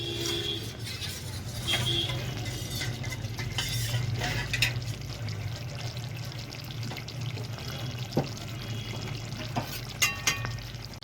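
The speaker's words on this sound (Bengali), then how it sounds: "আবারও একটু জল নিয়ে এর মধ্যে 2 চামচ পরিমাণ অ্যারারুট দিয়েছি, এটা ভালোভাবে নেড়ে দিয়ে দেব" Chili chicken stirred in a pan after a water and arrowroot mixture is added, a soft steady sizzle with scraping spoon strokes and a few clinks of metal, fairly quiet with no talking.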